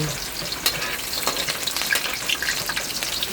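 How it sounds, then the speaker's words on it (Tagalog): Garlic sautéing in a pan for a kangkong adobo, a steady loud sizzle with bursts of crackle and a few stirring scrapes throughout, no talk over it. "nagigisa tayo ng bawang"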